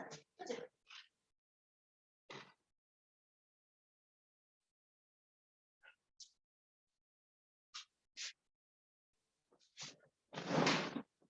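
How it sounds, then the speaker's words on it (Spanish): A door is shut in a quiet room, heard as a few soft scattered knocks and clicks spread over several seconds, ending in a brief louder thud or rustle nearby. "voy a cerrar la puerta"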